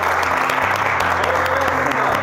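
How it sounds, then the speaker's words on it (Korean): An audience at the close of a comedic mock-courtroom show claps in a dense, steady round of applause that stays loud and close for the whole short stretch. "일어나서 한번 박수 한번 치면서 이제 이 자리를 마무리하면 될까 싶습니다"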